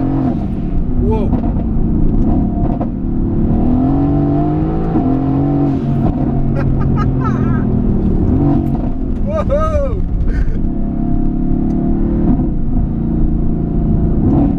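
A Mercedes AMG engine revs and roars while driving, a loud continuous rumble rising and falling through the rev range for about fifteen seconds, with people talking and exclaiming over it.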